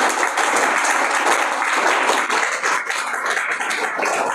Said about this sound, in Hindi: जोरदार तालियां शोर मचा के 1 2 3 स्टार्ट